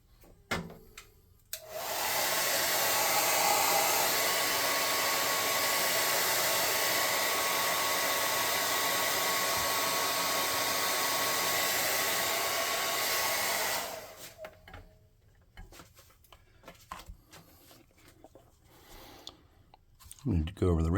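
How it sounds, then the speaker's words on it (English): A hot air gun drying paint on a small painted bird figure blows a steady, loud broadband whoosh for about twelve seconds, then cuts off, leaving quiet handling sounds afterward. "dry that real quick with a hot air gun"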